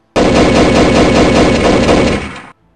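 Rapid burst of gunfire from Dead Eye mode in the Red Dead Redemption video game, a loud, dense volley of shots running continuously for over two seconds before cutting off abruptly.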